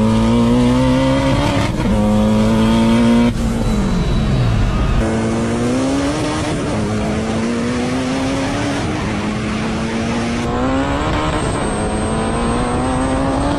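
C8 Corvette drag racing against a 1000-horsepower minivan, engines roaring loud and close, climbing in pitch through repeated gear changes with short drops between shifts, no talking.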